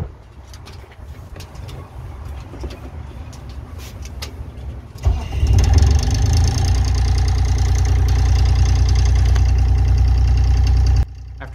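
A Morgan 321 sailboat's inboard motor cranks and catches, then settles into a loud, steady idle with a low rumble that runs close and continuous before cutting off near the end.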